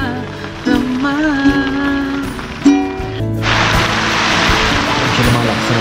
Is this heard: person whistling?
no